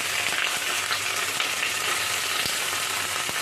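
Ginger paste sizzles loudly and continuously in a hot pan for shukto, with occasional light clicks of a stirring utensil against the pan.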